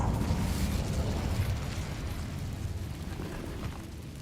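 Incendio fire spell cast in Hogwarts Legacy, a rumbling, roaring flame burst, loud at the start and slowly easing into a sustained lower roar over a few seconds.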